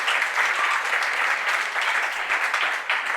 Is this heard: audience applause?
yes